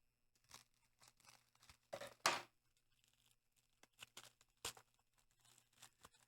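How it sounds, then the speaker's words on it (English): Bubble wrap packaging being unwrapped from a USB pen tablet: irregular crinkling, tearing and rustling bursts, with one louder rip near the middle, against a quiet background. "this is a bubble wrap. So basically, I'm just going to unwrap it."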